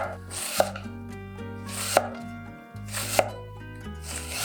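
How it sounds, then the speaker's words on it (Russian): A knife chops through an onion into half rings on a board, four sharp, evenly spaced cuts with a quiet hum between them, close and clear with no talking. "и нарезаю вот такими полукольцами."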